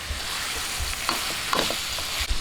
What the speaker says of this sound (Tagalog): patis, 1 tablespoon, itong ating pickles, halu-haluin lang po natin.